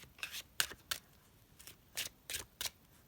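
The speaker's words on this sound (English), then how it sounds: "You can feel free to skip through the shuffling if you'd like." A deck of tarot cards is shuffled by hand in a quiet room, a handful of soft, crisp riffling bursts separated by short pauses, close and alone without talk.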